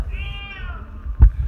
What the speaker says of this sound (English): That kitty's loud.